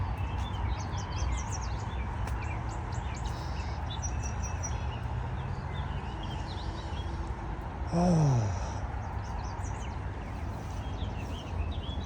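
Small birds chirp and trill in scattered bursts beside a creek in a Toronto park, with a steady low background rumble and a short swooping whistle near the end.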